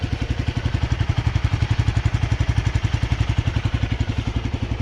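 A motorcycle engine idling to warm up in cold mountain country near Dhurbuk, a steady close-up rhythmic thumping throb that holds an even pace throughout.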